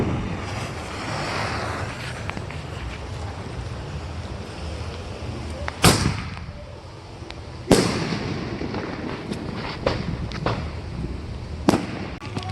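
Firework canisters and shells go off outdoors near open water, with sharp cracking booms at irregular intervals over steady wind and surf-like rumble.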